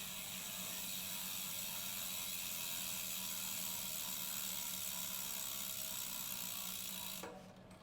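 An electronic derailleur motor on a Wheeltop EDX drivetrain fitted to a Cervelo Soloist bike, a continuous close mechanical whir with a ratcheting texture that runs steadily and then cuts off near the end.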